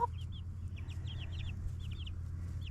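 Young turkey poults peep in a brooder, a steady scatter of thin, high chirps over a low constant hum, moderately close and without speech.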